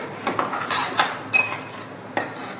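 Flour roasting in a pan for sukhdi, stirred continuously, with a spoon scraping and clinking against the metal in several distinct strokes, close and fairly loud over a faint background hiss.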